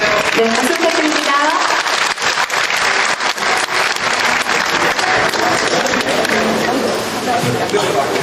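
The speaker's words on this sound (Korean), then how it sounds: "박수 부탁드립니다." An audience at a city's 30th anniversary ceremony gives dense, steady applause that fills the hall from start to finish.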